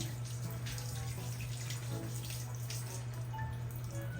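Water is poured over a dog during an outdoor bath, a continuous close rush of flowing water over a steady low hum, with no talk.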